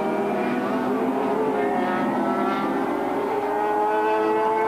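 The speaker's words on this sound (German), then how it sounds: "24 Runden liegen vor diesen Seitenwagengespannen." Sidecar racing outfits at the 1997 Swedish Grand Prix at Anderstorp, with engines droning steadily and their pitches shifting as machines circle past at a distance, heard as a continuous moderate roar.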